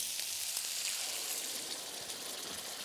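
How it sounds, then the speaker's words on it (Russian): Meat cutlets sizzle and stew in sauce in a frying pan, a soft, steady crackling hiss of bubbling liquid with no voices over it. "Вот теперь котлетки мои хорошенько тушатся."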